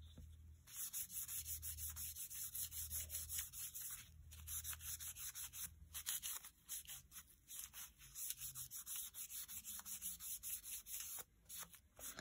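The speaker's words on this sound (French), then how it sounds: "Hop, je frotte bien comme il faut." Cotton rubbed firmly against a nail prosthetics tool and its plastic parts while cleaning, giving a continuous, close, scratchy rubbing in quick back-and-forth strokes with brief pauses.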